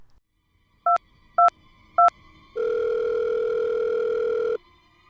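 Three short telephone beeps sound in quick succession, followed by a loud steady dial tone that holds for about two seconds after the phone is hung up, in a quiet room.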